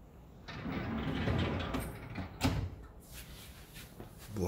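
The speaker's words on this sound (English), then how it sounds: "When have you seen a microwave with a drawer?" A microwave's built-in drawer slides open with a soft mechanical glide and a muffled thud partway through, followed by faint clicks and a short rustle near the end.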